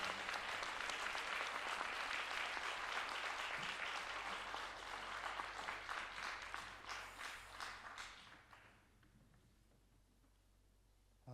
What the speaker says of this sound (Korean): 우리 한번 박수 한번 하도록 하겠습니다